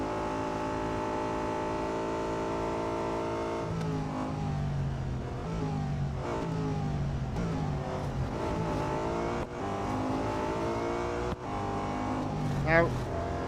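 Race cars in Real Racing 3 drone and rev steadily, engine pitch climbing and dropping through repeated gear shifts, loud and continuous with a player talking over them.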